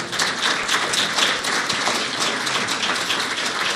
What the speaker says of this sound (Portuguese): Cadê as palmas de vocês